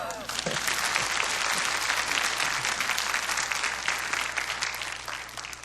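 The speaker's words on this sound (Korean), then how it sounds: "박수 한번 해주십시오." Sustained, dense applause from a sizable audience, steady and loud throughout with no voices breaking through.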